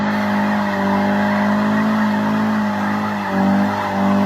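A Mazda Miata does a burnout, its engine droning steadily under a continuous loud tire squeal that swells briefly near the end.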